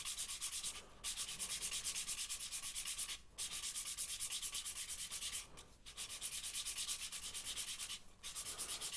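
Steady sanding of a wooden piston box as it turns on a lathe, a continuous close rasping hiss with a few brief gaps where the abrasive lifts off, no voices.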